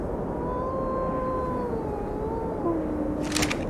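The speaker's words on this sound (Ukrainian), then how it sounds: "Я почув вовків" Wolves howl in ARK: Survival Evolved, several long wavering tones overlapping at a distance over a dense ambient bed, with a brief noisy burst near the end.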